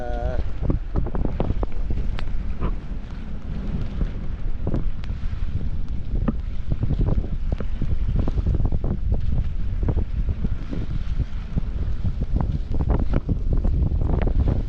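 Constant wind roar and buffeting at sea on Lamon Bay, with rumbling boat noise and sporadic knocks and splashes; a voice speaks briefly under it.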